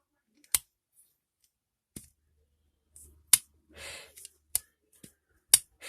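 A plastic toy robot's shovel part clicks into place, a handful of sharp, separate plastic snaps spaced out over several seconds, close and crisp, with a brief softer rustle in between; the robot is an upscaled Weijiang Hulk engineering warrior figure.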